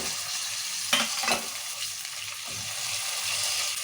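Onions frying in a pan for a stuffed brinjal curry: continuous close sizzle with two brief scraping stirs near the start, then a steady crackle.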